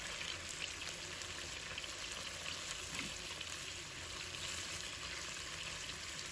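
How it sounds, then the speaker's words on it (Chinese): Chicken thighs sizzle gently over low heat in a pan with scallion and ginger, a soft, steady crackle and hiss with no talking, quiet and even throughout. "就小火慢慢的给它煎一会，这样煎出来的鸡肉有葱姜的香味，特别的香。"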